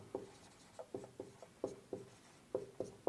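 Pen strokes scratch across paper in short, separate bursts while a geometry problem about a base perimeter is written out. The strokes are quiet and close, with an irregular rhythm and no talking.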